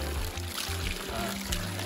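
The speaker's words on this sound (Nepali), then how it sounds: "यहाँ चाहिँ त्यो निस्केको पानी चाहिँ यता धारो हुँदै यहाँसम्म आएको छ है।" Water pours and splashes steadily close by from a tree hollow into a spout, a continuous trickling flow with a low rumbling undertone throughout.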